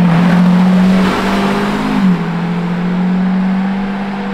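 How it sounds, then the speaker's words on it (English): A Lamborghini Revuelto prototype's hybrid V12 drones steadily and close on the road. It shifts pitch once midway through the rev and then settles back into a smooth, even note, with no talking. "at least we can hear the hybrid V12"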